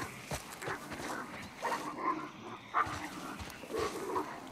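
Dogs bark and whine intermittently at a distance in The Last of Us video game, with short muffled calls spread across the clip over a low ambient background.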